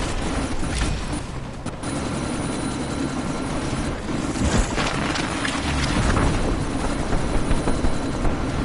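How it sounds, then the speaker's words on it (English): A helicopter in Deus Ex: Mankind Divided during a sandstorm, a loud continuous rotor roar and whine filling the scene with brief mechanical bursts. "you need to disable that chopper"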